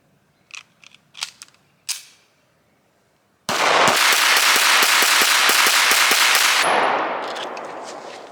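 An SA 35 pistol, just back from repair, runs through three magazines: a few sharp isolated clicks and snaps, then a dense, loud, continuous stretch of rapid reports and clatter that tapers off at the end.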